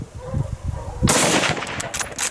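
Rifle shots ring out during a montería driven hunt, an abrupt loud broadband burst cutting in mid-clip after quieter low rumble, followed by sustained noisy crackle and echoes outdoors.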